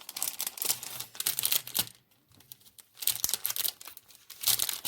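Paper pouch with many cutouts being opened: crisp crinkling and tearing bursts in two clusters separated by a brief quieter pause, close and alone.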